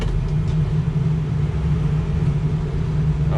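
A 2007 Ford F250 diesel pickup with a Bulletproof EGR setup drives along, its engine giving a steady, loud, low rumble throughout with no talking.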